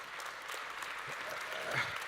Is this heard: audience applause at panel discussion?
yes